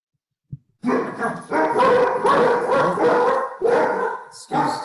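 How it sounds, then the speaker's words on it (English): Dogs bark repeatedly and loudly up close, a rapid run of overlapping barks and yips that fills the clip. "Excuse my dogs."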